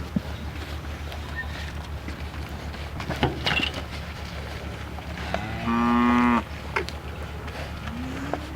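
Dairy cattle in a pen at an Idaho dairy. One clear, loud moo rises out of steady barn noise and wind rumble, with fainter lowing and scattered knocks around it.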